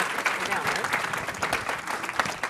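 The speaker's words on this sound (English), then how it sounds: "Let's give an applause." Short burst of audience applause at a celebration launching a center for aging well, lively clapping from a modest crowd.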